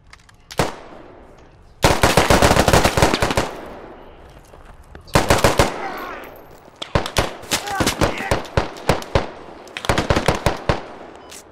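Rapid bursts of automatic gunfire and single shots ring out in a shooting video game, loud and close, coming in repeated volleys with short quiet gaps between them.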